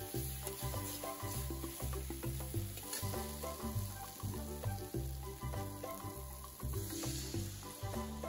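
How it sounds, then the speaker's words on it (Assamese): Water goes into a pan of spicy catfish curry, Northeast Indian style, and sets off a steady hiss and crackle of sizzling that runs throughout under rhythmic background music. "এয়া চাওক জোলখনত পানী দি দিলে"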